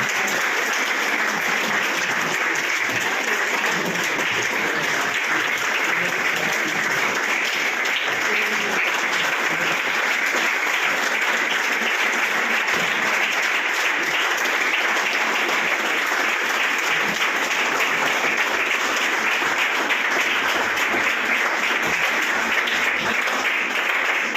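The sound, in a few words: audience applause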